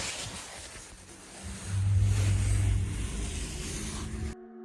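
An engine rumbles up, swells louder for a couple of seconds, then recedes as the vehicle pulls away before the sound cuts off abruptly.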